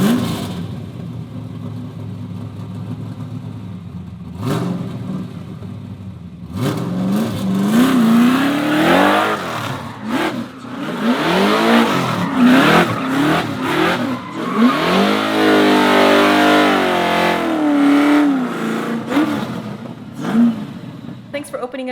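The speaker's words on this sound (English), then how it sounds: "I'll send you guys off with a little burnout and a donut" A high-performance car does burnouts and donuts at a home shop. The engine idles quietly at first, then revs loudly in repeated rising and falling surges, with voices heard over it.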